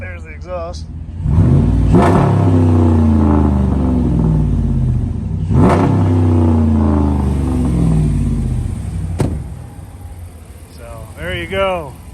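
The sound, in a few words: truck exhaust while revving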